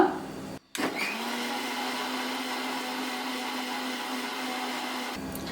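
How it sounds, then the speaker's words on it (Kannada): A mixer grinder whirs steadily for about four seconds, finely grinding a cucumber tambli paste with coriander leaves, after a brief start and short pause. The motor noise is close and even, with no talking. "ನೋಡಿ ಈ ಥರ ನುಣ್ಣಗೆ ರುಬ್ಕೋಬೇಕು"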